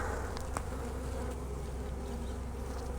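A dense, steady hum of many honey bees buzzing close by during a hive frame inspection, continuous and even throughout.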